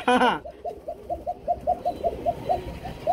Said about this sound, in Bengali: খালি ডাকটা শুনাইতেছি। ফার্স্ট অফ অল কি পরিমাণ ডাকতে পারে কুকা কবুতর বন্ধুরা দেখেন।